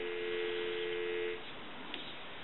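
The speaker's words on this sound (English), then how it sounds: "give you some dial tone" A steady payphone dial tone hums for just over a second, then cuts off, leaving faint line hiss.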